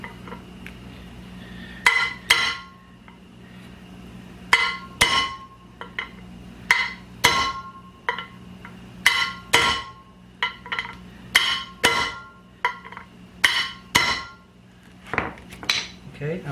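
A 3/4 inch socket wrench clanks and clicks on Chevy suspension parts in repeated sharp metallic strikes and ratchet bursts, close up, spaced every second or so.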